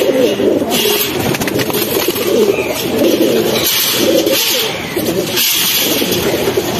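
Bagha pigeons at a seller's loft coo in repeated soft, throaty phrases close by, with a continuous murmur of birds and faint background noise throughout.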